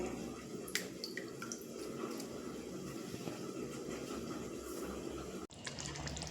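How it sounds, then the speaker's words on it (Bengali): Soaked rice for chicken and potato biryani drains its water in a steady, soft trickle and patter, close and continuous with a few brief drips, and no talk over it. "এবার আমি এখানে যে চাল রেখেছি চালগুলো জল ঝরিয়ে নেব অবশ্যই কিন্তু জলটা ঝরিয়ে নিতে হবে"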